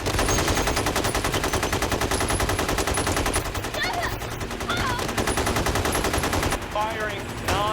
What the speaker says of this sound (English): Firing non-stop.